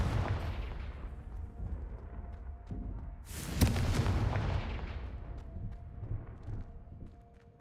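Confringo spell explosions in Hogwarts Legacy, a low booming rumble that swells into one sharp, loud blast midway, followed by decaying rumbles and a few fainter impacts.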